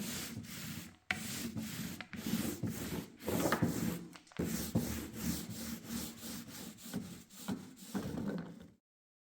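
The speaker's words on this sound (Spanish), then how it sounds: "dar una última pasada con la lija de mano para eliminar algún pequeño defectillo" Steady back-and-forth rasping of sandpaper rubbed by hand over chalk-painted wood, close and continuous with brief pauses, ending abruptly.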